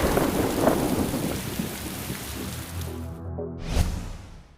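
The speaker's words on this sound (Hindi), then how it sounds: "अब भाप ठंडी होकर बारिश बनकर बरसने लगी।" Steady heavy rain pours down with rolling thunder, a deep rumble building near the end, loud and close with no voices.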